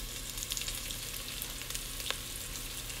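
Risotto rice toasting in a hot pan with steady stirring, a continuous dry sizzle and faint scraping close by, with no talk.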